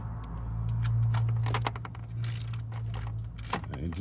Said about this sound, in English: we're gonna work our way from in to out to torque these bolts down